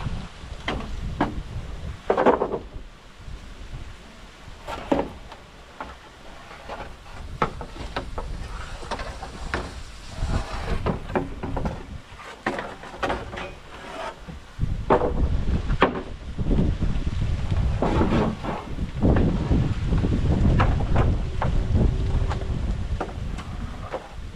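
Typhoon wind gusts roar and batter the microphone in surges, with occasional knocks and creaks; the blowing grows heavier toward the end.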